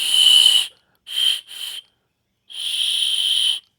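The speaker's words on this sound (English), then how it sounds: "It's got a survival whistle." A survival whistle built into a survival knife blown in short shrill bursts: one blast, two quick toots, then a longer sustained blast, loud and close with silence between.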